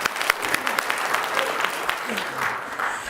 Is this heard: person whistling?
no